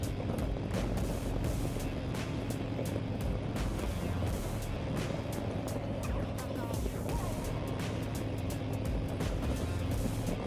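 A 2024 Harley-Davidson Road Glide Limited cruises along the road, its engine a steady low drone beneath a continuous heavy rush of wind.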